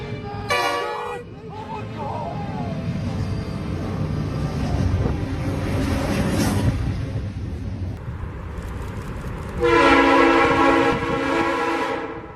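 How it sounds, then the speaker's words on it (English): A train rolls by over railroad tracks, a loud, close roar of wheels and rumble with a blaring horn sounding near the start and again toward the end, mixed with faint shouting voices. "There is no safe space beneath railroad tracks when a train passes overhead"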